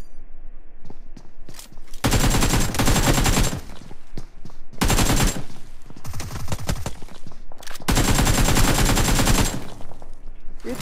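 Bursts of automatic gunfire from the BGMI battle royale game, three long sustained volleys of rapid shots separated by short gaps with scattered single shots and footsteps between, loud and close with no talk.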